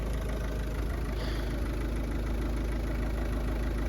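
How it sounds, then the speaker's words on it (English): A 1950s Fordson Major tractor's diesel engine runs at a steady, rough idle with a low knocking chug, close and continuous throughout, with no one talking. "I'm gonna try to start it with the valve lifter down"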